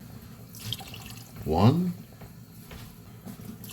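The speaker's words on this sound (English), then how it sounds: "Now we're going to put in 3 cans worth of liquid." Water poured from a can into a pot of soup noodles, a short splashing gush midway, with a voice counting quietly around it.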